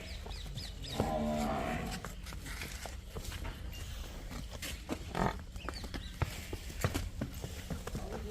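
A buffalo gives a low, drawn-out moo nearby, followed by scattered thumps and rustling in a quiet outdoor setting.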